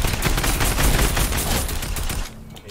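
Rapid sustained gunfire from a video game scrim match, loud and dense bursts of shots filling most of the moment before easing off near the end.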